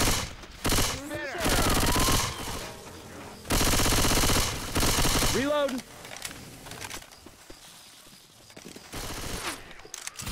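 Shotgun blasts and other gunfire in the zombie shooter Left 4 Dead 2, loud bursts of shots in several separate volleys, mixed with in-game cries and some talking.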